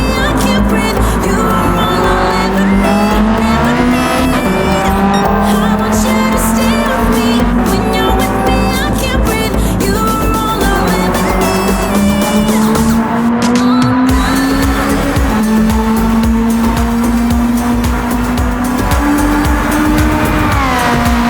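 A Honda Civic Type R EK9 in Gran Turismo 7 at Blue Moon Bay screams at high revs near 9000 rpm, the engine note climbing through gears with tire squeal, loud and continuous throughout.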